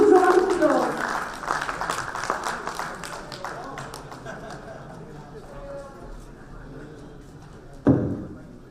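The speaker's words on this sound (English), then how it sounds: "A huge round of applause for the sir." An audience applauds at the Pharma Ratan 2018 award ceremony, a full round of clapping that starts loud and gradually thins out, with an announcer's voice over it and a single thud near the end.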